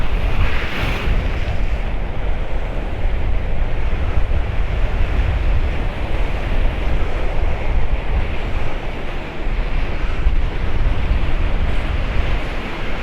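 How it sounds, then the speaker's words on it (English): Wind and sea waves roll steadily onto the Paphos seafront after a November storm, a continuous loud roar of surf with wind buffeting the microphone, no speech over it. "Cool, the wind's picking up again."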